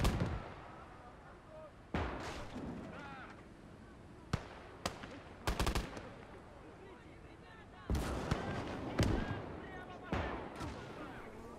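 Artillery support booms and crackles in the WWII game Gates of Hell: Ostfront on the Soviet front, sharp loud blasts and bursts scattered irregularly over distant battle noise, with someone talking between them.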